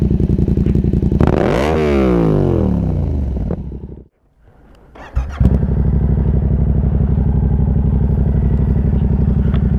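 A Yamaha MT-07 with an SC Project Conic exhaust revs hard while standing still, a loud close blast rising and falling before a brief drop, then settling back to a throbbing idle, with no talk.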